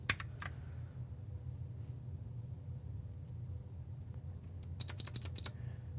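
Quick bursts of computer keyboard typing, with a few clicks at the start and a rapid cluster near the end, sound close over a steady low rumble of background noise.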